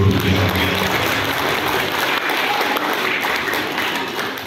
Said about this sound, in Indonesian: Tepuk tangan untuk guru-guru di Aulia